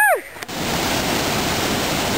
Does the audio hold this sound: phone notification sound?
no